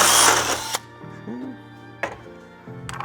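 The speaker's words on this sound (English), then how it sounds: "going in for this 3rd hole, straight up and down with our drill bit and drill." A power drill bores a hole through an aluminum stop-stay bracket during a Mercedes Sprinter NCV3 door install, opening with a loud, harsh grinding burst, then quieter handling noise and two brief, sharp bursts later.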